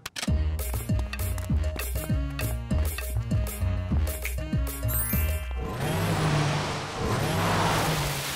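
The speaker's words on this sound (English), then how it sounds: "Churning horsepower, firing on all cylinders. Raw speed!" A cartoon car from Ben 10 revs its engine in rhythmic bursts over a driving musical beat, then roars off at speed with a loud, sustained whoosh as the music continues beneath.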